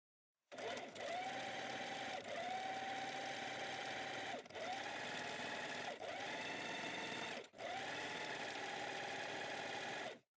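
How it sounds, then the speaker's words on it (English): A sewing machine runs a straight stitch along the inside edge of a folded double hem, humming steadily and close in three long runs with brief pauses between them. "We then take our fabric to the sewing machine, and with a straight stitch we work along the inside edge of the fold"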